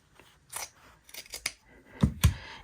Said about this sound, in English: Now I can just take a pair of scissors